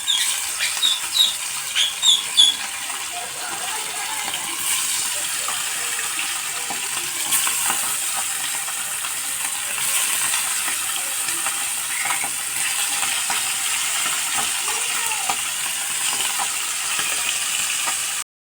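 Lata fish frying in hot oil in a wok: a steady, bright sizzle and crackle runs throughout with scattered pops and spits, a few louder bursts near the start as pieces go in, no talk.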